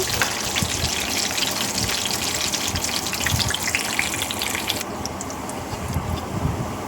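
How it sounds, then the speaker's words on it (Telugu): Tempering spices fry in oil over a medium flame, a steady, dense sizzle and gush running throughout at an even level, close and alone without any talking, easing slightly in brightness partway through. "మీడియం ఫ్లేమ్లో పెట్టుకొని వేయించుకోవాలి"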